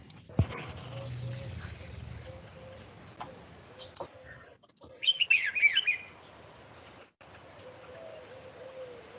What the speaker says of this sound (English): So children, now listen to the sound of this bird.